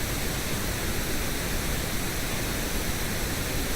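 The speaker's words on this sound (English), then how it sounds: "random noise with equal energy per octave, has more lower end frequencies than white noise" Pink noise test signal, a steady even hiss with extra low-end weight and equal energy per octave, loud and unbroken from start to finish with no other sound.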